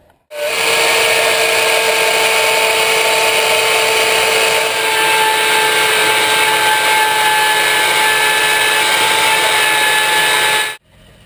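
A power drill drives screws into the top part of a hinge during a teardrop trailer build, one loud steady whirring run of about ten seconds, close and alone with no talking.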